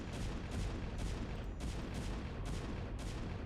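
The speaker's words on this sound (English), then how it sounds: "Something's firing cannons?" Repeated cannon fire in StarCraft: Brood War Remastered, a string of loud, broadband bursts roughly every half second over a dense, busy battle din, with no voices.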